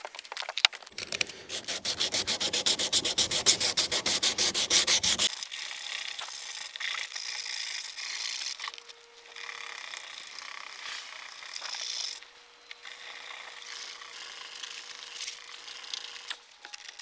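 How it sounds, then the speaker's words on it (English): Sandpaper rubbed by hand over a car body panel, a steady rapid back-and-forth scratchy rasp for about five seconds, then quieter intermittent rubbing strokes, close up and without speech. "Best get the old sandpaper out."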